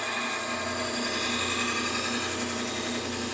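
Belt grinder running a Trizact A30 fine belt against a knife blade during sharpening, a continuous, even, high-pitched grinding whine held steady throughout.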